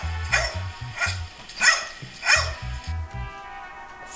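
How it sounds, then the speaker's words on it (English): A dog yips and barks in short, bright bursts, four or five quick calls spaced unevenly, sounding fairly close and thin, with a faint muted thumping beat running low underneath. "I'm very surprised by some of these barks."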